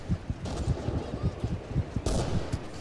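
An M1100 shotgun firing slugs in a video game, a rapid run of punchy repeated shots, with a couple of louder, brighter blasts standing out among them.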